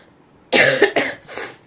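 A person with a worsening cough coughs close up, three quick harsh coughs in a row, with no talking.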